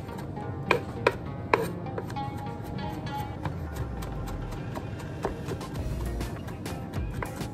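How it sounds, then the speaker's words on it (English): A knife chops fresh garlic on a board in a home kitchen, a few sharp taps early then softer irregular cuts, fairly quiet against low background noise. "Just chopping some garlic"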